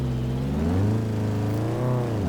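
Turbocharged Honda VTEC car engine in the Assetto Corsa racing video game, a loud steady drone with its pitch rising and falling slightly as the car accelerates, heard alone.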